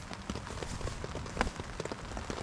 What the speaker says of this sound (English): this is one of the camps constantly raining